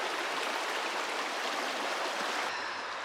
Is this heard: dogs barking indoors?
no